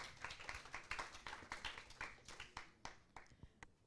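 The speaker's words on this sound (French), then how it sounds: "On va les applaudir." Audience applause at an animation festival screening, faint, quick scattered claps that thin out toward the end.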